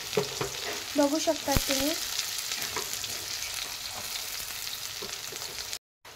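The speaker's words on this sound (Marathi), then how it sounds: "आता आपण कापलेला कांदा सुद्धा टाकून घेऊयात।" Chopped onion sizzles and fries in a hot pan while a spoon stirs and scrapes it, a steady close sizzle with a few brief voice fragments over it.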